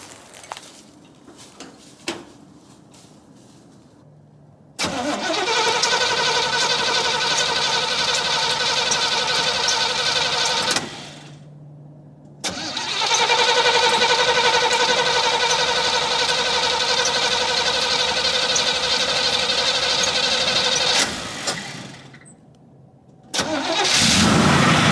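A Chevy K10 truck that has sat unused for a year cranks and fires, catches and idles steadily, cuts off, then restarts and runs again at a loud, close, even idle with no talk over it.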